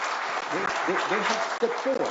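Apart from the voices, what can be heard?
audience applause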